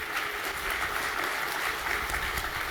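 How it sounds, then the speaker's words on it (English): An audience at an Irish Unity Summit Q&A applauds its panelists, a steady, even wash of many hands clapping, fairly quiet and continuous throughout. "round of applause for our panelists as we close out"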